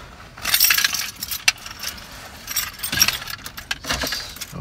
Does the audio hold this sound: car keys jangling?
yes